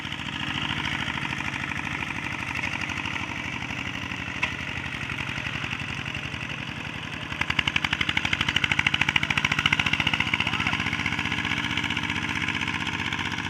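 A walking tractor's engine runs hard at full throttle in a rapid, rattling chug that grows louder and harsher about halfway through, then holds steady, close by and without voices.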